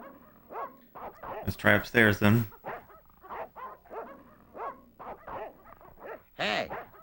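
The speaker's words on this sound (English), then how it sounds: "Well, those are dogs. I like how no one hears the barking." Dogs bark in the Broken Sword: The Shadow of the Templars video game on PlayStation, with a loud burst of barking and whimpering near the start and a shorter one near the end, mixed with steady dialogue.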